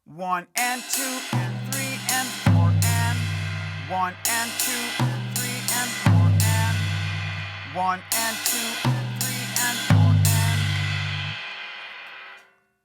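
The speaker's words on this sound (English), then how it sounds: "The pattern of just the second measure with just the hands, ride cymbal and the tom" Mozambique pattern played with the hands only on ride cymbal and tom: steady ride strokes with booming tom hits in a repeating looped figure, close and clear, with a voice counting the beats aloud throughout.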